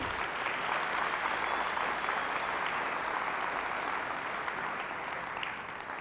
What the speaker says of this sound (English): Can we give a huge round of applause for the staff that put this on?